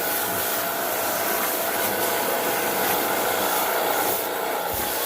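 A steady, loud rushing roar of a blower cleaning a Daikin air conditioner, running continuously, with a hissing airflow and no pauses.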